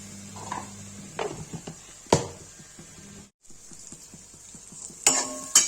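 Onions frying in a pan for mushroom do pyaza, a soft sizzle under scattered scrapes and clinks of a spoon stirring, with sharp knocks against the pan and a brief pause midway.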